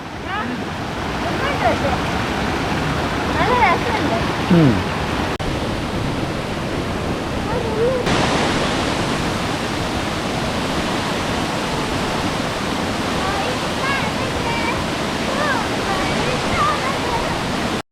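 A waterfall in the forest at Kakkadampoyil, Kerala, roars in a constant, full rush of water close by, with brief bird calls and a voice faintly heard now and then.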